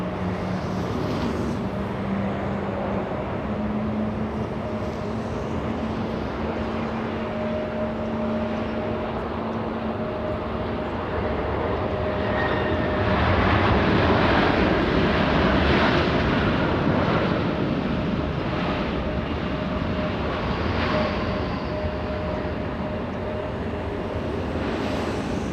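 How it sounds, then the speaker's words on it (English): A Turkish Airlines airliner arrives at LAX after a long flight from Istanbul, a moderate engine roar swelling midway with a whining tone, heard from a distance with no talk. "Look at this, Turkish coming in."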